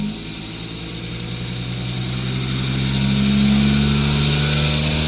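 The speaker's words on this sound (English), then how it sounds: "Vacuum pump on, turn the revs back up." A drain jetting truck with its vacuum pump switched on, the diesel engine rising steadily from a low idle to a higher sustained rev, with a loud, continuous mechanical drone and whine close by.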